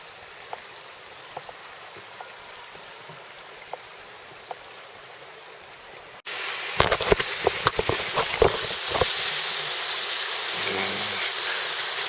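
A river flowing beside a rickety woodland path, heard as a steady broadband water rush that starts abruptly partway through, with faint scattered clicks before it.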